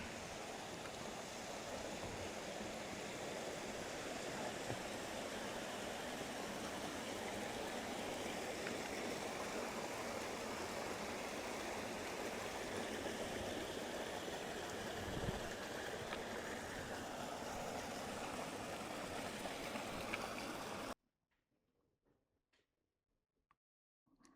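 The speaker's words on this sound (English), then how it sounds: "And plenty of river crossings." A river stream along a trekking trail in Nepal rushes with a steady, full wash of flowing water, constant and fairly close, then cuts off abruptly into near silence.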